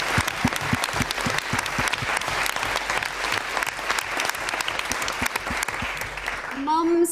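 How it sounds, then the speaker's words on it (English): In an assembly chamber at a youth voice competition final, an audience applauds the children with crisp, sharp claps that keep a lively rhythm, and a voice rises briefly near the end. "Mums, dads and teachers deserve a round of applause"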